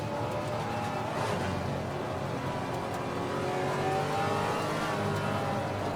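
GT4 race cars in the Assetto Corsa Competizione sim racing game, engines droning and revving together in a steady pack with rising and falling whine and no talk.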